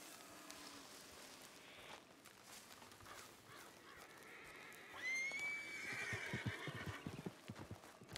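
A horse whinnies once, loud and drawn out, about two-thirds of the way through in a ranch video game, with hooves clopping and crows cawing around it.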